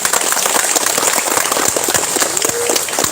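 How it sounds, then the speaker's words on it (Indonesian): Brief burst of audience clapping at an Indonesian public address, a crisp patter of many hands at moderate volume, dense and steady for about three seconds. "Tepuk tangan untuk Indonesia."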